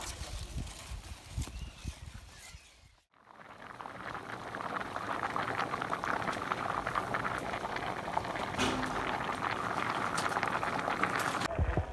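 Tomatoes for homemade tomato sauce boil in a pot after about forty minutes of cooking, giving a steady, dense bubbling that runs throughout, broken only by a brief dip near the start.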